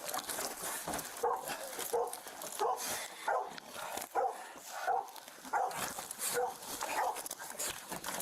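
Several dogs bark and yip in short bursts at police officers, fairly close and loud, with excited human voices talking and shouting over them throughout.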